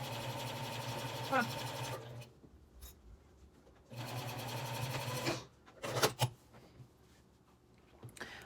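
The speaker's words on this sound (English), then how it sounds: "for me, I'm gonna stitch right at the top" A sewing machine stitches trim along the top of a fabric project bag in two steady runs of about two seconds each, with a brief pause between them. A short spoken exclamation follows.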